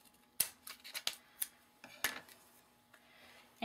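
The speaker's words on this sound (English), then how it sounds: "I'm just gonna use my scissors and cut the four of them together." Scissors snip through four stacked paper strips in a quick, uneven series of sharp, close cuts, with quiet pauses between and no talking.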